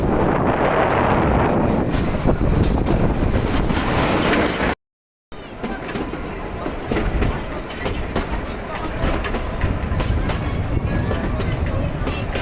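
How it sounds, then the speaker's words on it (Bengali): Kalka-Shimla toy train running uphill through a tunnel, giving a loud, steady rumble and rattle with wind buffeting, briefly cut out midway, with speech faintly present. "টানেলের ভিতর দিয়ে যখন যাচ্ছে ট্রেনটা"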